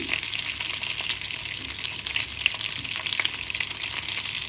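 Stuffed brinjals fry in a pan on a low flame, giving a steady, gentle sizzle with soft crackles throughout and no voices.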